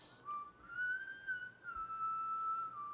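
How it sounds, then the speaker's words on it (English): A clear melodic whistle from a song rises and glides along a sustained tune, standing alone and prominent over a soft backdrop. "this whistle part"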